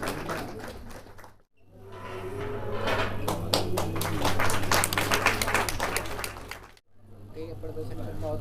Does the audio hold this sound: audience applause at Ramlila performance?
yes